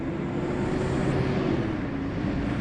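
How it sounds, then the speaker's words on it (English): A steady low engine rumble with a sustained drone, constant and fairly close, like a heavy truck approaching nearby with broadband road and wind noise. "Now I hear a truck coming."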